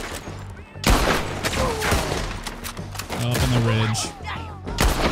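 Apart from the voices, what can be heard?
gunfire from a video game, Red Dead Redemption 2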